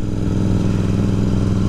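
A Royal Enfield Continental GT 650 motorcycle being ridden, its steady twin-cylinder engine thrumming loud and close at an even cruising pace with no break.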